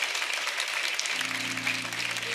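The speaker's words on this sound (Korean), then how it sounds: "그 일을 행하시는 하나님께 영광의 박수를 드립니다." A church congregation at a Korean Sunday worship service bursts into steady, full applause, with a low sustained keyboard tone entering partway through.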